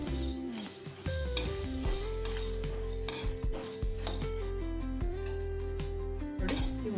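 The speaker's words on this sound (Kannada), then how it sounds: "ಇವನು ಸಹ ಈ ಹದಕ್ಕೆ ಹುರಿದು ಬಿಸಿ ಮಾಡಿ ತೆಗೆದಿಟ್ಕೊಳ್ಳೋಣ ನೋಡಿ" Dry fruits and pumpkin seeds roasting in a pan for laddoos, with light rattling and stirring clinks over a faint sizzle and a steady background hum.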